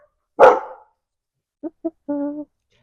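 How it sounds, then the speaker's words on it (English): Neighborhood dogs bark outdoors: one loud sharp bark first, then after a pause two short yips and a longer tonal bark, all somewhat distant against quiet. "There's all the dogs in the neighborhood."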